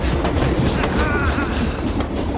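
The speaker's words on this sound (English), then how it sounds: "Catch up with that train!" A steam train in Paddington 2 runs on rails with a loud, close clickety-clack of wheels and a brief squealing tone partway through.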